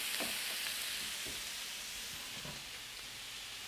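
Food sizzles and fries steadily in a pan, a constant close hiss with faint crackles and stirring knocks.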